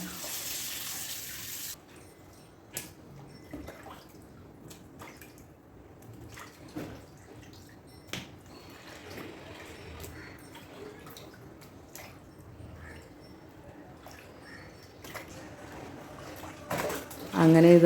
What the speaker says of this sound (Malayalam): ഞാൻ അതിൽ കുറച്ച് വെള്ളമൊക്കെ ഒഴിച്ചിട്ടൊന്ന് ക്ലീൻ ചെയ്തെടുക്കുകയാണ്